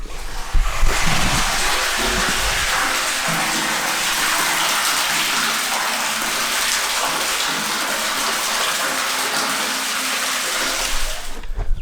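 Water gushes steadily from a well pipe at a home wellhead, a loud, continuous broadband rush that runs unbroken for about eleven seconds with no voices over it.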